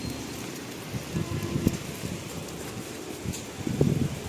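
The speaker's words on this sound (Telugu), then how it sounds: "ఇప్పుడైతే వర్షం పడుతుంది" Rain falls steadily nearby, a constant patter with occasional louder drops and soft gusts rustling through.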